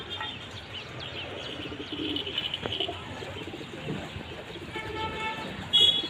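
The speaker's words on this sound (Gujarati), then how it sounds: "નજીકથી કબૂતર દેખાડું" Pigeons coo softly nearby outdoors in the morning, low repeated calls with occasional chirps, under faint background noise and brief talk.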